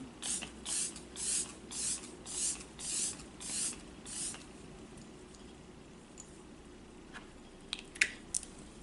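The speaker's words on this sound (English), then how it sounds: "I spray my setting spray, it will transfer" Makeup setting spray is misted onto a face in about eight quick, evenly spaced bursts, close and fairly loud, followed by soft handling clicks and rustles.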